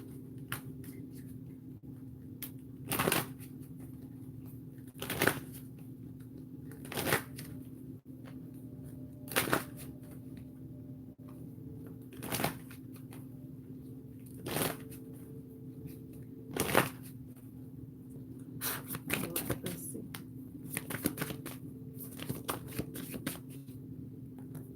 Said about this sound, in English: Let's get 3 more shuffles in.